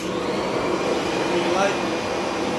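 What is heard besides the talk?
Kirby vacuum cleaner running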